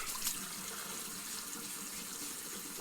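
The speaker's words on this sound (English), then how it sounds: "I'm going to turn the water on just for a second." A water tap runs steadily into a bathroom sink, a continuous close hiss and splash with no voices.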